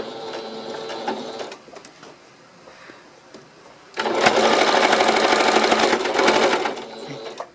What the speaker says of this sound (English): Now I'm going to begin stitching about 3/8 of an inch from this edge.